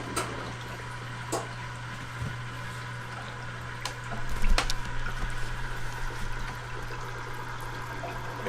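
A water pump fills the tube of a 60W Chinese laser cutter, making a steady low hum under running, gurgling water, with a louder gush about halfway through before it settles back.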